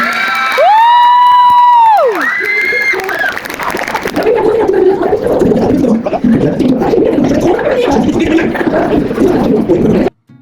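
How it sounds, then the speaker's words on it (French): An audience at the Fana Manga convention in Yzeure cheers loudly and nearby. A long rising whoop comes first, then a sustained roar of cheering and clapping that cuts off abruptly at the end. "Allez, on applaudit bien fort, s'il vous plaît."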